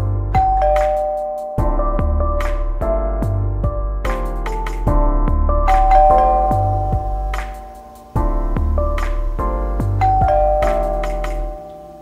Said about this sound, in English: Ringing the doorbell this time.